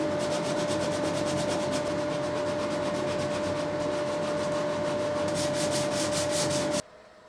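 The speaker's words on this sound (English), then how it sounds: "I will achieve that by sanding the body of the guitar, the face that the heel attaches to." Sandpaper rubs back and forth on the wooden body of a guitar where the neck heel seats, a loud, close, rhythmic scratchy rasp that runs steadily and stops abruptly near the end.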